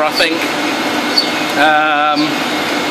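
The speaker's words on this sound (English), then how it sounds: "here is a helium compressor, which is part of a Gifford-McMahon refrigerator. It's a fairly standard compressor, scroll compressor" A helium scroll compressor of about 10 to 12 horsepower, part of a Gifford-McMahon refrigerator and running on 400-volt three-phase power, gives off a steady, close mechanical hum with a tonal whine, while someone talks over it.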